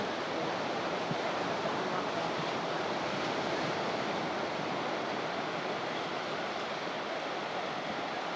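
Ocean waves washing onto a beach near East Bank on Lake Seminole at sunset, a steady, dense broadband rush that continues without a break and sits close to the microphone, with some wind buffeting mixed in.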